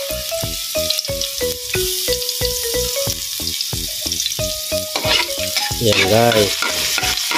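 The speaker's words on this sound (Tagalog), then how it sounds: "gigisa-gisa lang muna natin hanggang sa maluto yung bawang" Garlic sautéing in a pan for dinuguan, a loud close sizzle broken by frequent spoon stirs and scrapes, while someone talks over it throughout.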